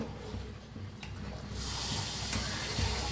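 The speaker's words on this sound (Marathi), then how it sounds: "एक बटाटा आता ह्याच्यात टाकूया छान मिक्स करूया" Soft sizzling and stirring as a potato is mixed into rajma cooking in a pan, a steady low frying hiss that brightens after the first second and a half, with no talk over it.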